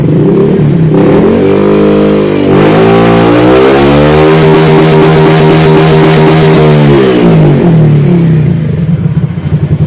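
A motorcycle runs at full throttle with no load in a top-speed test. The engine roars loudly and close, its pitch climbing through the gears, holding high, then falling away.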